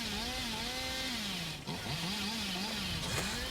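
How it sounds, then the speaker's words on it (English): A killer's chainsaw revs continuously in a horror video game, its buzzing motor note wavering up and down in pitch, loud and close for a few seconds with no voices. "I was hoping she'd think I'd chainsaw away and then go for it."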